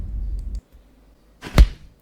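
An AI-generated punch sound effect: a low rumble fades out, then after a short gap comes one sharp, loud whooshing impact that quickly dies away.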